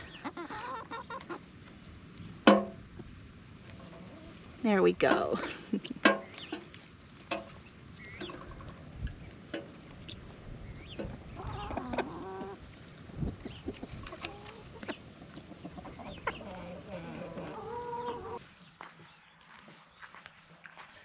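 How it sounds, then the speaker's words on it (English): A naked neck hen clucks close by in a homestead setting, short irregular bursts over a quiet background, broken by handling noises and a brief spoken phrase. "My naked neck. She's one of the first chickens that we got."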